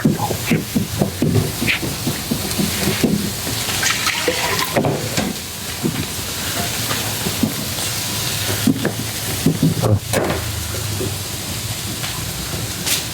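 Parotta pieces being chopped on a hot griddle for kothu parotta in a hotel kitchen, giving a loud, steady run of rapid metal-on-metal clatter and scraping over a hissing sizzle, with no talk.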